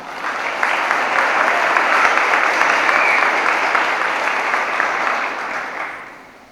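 Audience applause for junior award recipients at a school career and technical education awards program, a steady dense wash of clapping that holds for several seconds before fading out at the end.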